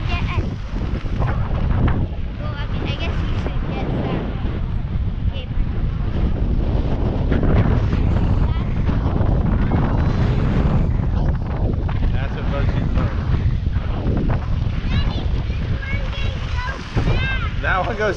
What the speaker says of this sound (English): Hey Vicente, if you want the wind, just lift up your shield.